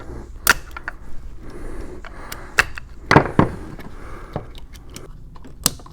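A plastic fitting on a soft wash system manifold snaps into place, giving a few sharp close clicks and taps with quieter handling noises between them and no speech.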